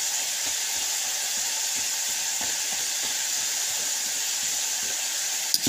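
French fries bubble in hot oil beside frying sardines, a steady bright sizzle with soft crackling pops scattered through it, close and continuous, ending with a brief clatter.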